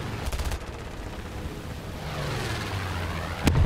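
Propeller fighter plane engines in War Thunder, a steady droning hum that grows in the second half, with a short burst of gunfire near the start and a sharp impact at the end.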